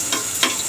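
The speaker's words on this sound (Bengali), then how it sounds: "তো ডিমটি এভাবে নাড়তে থাকবেন, তাহলে আস্তে আস্তে পাকা হয়ে যাবে ডিমটি।" Egg being stirred over vegetables in a frying pan for noodles, giving two short scraping sweeps over a steady close sizzle.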